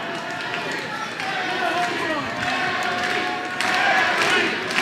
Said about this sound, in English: Crowd chanting Nellie,